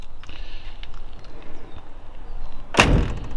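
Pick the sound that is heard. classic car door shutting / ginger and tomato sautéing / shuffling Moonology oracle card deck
classic car door shutting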